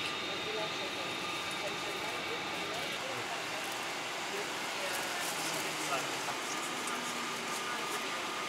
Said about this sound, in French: En direct de l'avion.